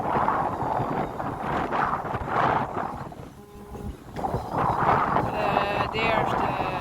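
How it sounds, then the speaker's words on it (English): Strong wind buffets the microphone in gusty, roaring surges during a DJI Neo 2 drone flight outdoors near a tree, loud and continuous with a brief lull midway. "it's pretty windy"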